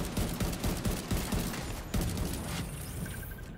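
Turret gunfire in the video game The Division 2 rattles steadily as a dense stream of rapid shots, loud at first and easing slightly toward the end.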